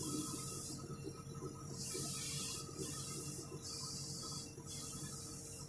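Airbrush spraying thinned paint onto a Corgi Chevrolet Corvair model car during restoration, heard as bursts of steady high hiss starting and stopping several times over a compressor's continuous hum.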